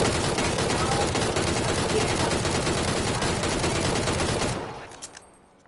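Automatic weapon fire in PUBG comes as dense, rapid bursts that rattle on loudly for several seconds and then cut off, leaving a few faint trailing shots.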